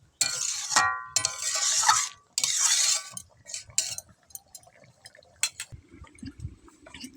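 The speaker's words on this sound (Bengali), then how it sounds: "দেখুন ভালো করে একটু নেড়ে নেব।" Stirring a pan of bhangan fish jhal, a spicy fish curry, with a spoon or spatula that scrapes and clinks against the pan. Metallic clatter and bursts of scraping come up close in the first few seconds, then give way to quieter, softer stirring.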